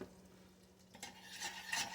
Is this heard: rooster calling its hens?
no